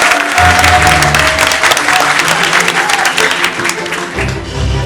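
An audience at a university debating contest applauds the jury president, loud crisp clapping from many hands over a low hum of voices, fading slightly at the close.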